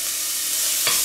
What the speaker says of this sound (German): Und braten wir es mal kurz an.